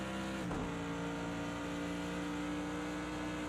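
Steady, loud engine drone of a Mercedes AMG GT3 race car in Project Cars 2 at Bathurst, held at a constant pitch under a brief thump near the start, with no voices.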